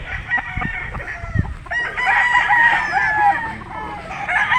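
A Gilmore gamefowl rooster crows loudly nearby, a long drawn-out call with clucking from other fowl around it.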